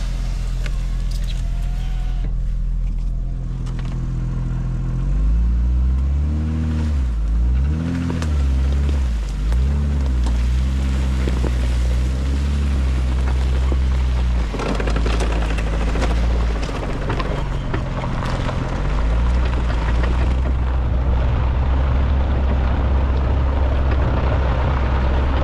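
Engine of an off-road Jeep Grand Cherokee rig running rough, a loud, steady low rumble with wavering revs and some rattling.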